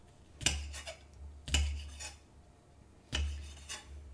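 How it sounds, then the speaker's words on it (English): Rough knife chopping of fresh chili on a cutting board, three sharp, close chopping bursts with short scraping tails, spaced about a second apart. "Just super rough chopping. No knife technique."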